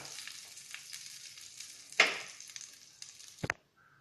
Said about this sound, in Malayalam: ആ ചൂടിൽ തന്നെ അവൽ നല്ല റോസ്റ്റായി കിട്ടും